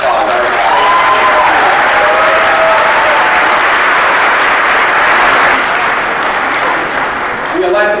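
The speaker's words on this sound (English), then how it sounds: "we should give him a big round of applause" Sustained audience applause at a political speech, a loud wash of clapping building and holding for several seconds before tapering off near the end.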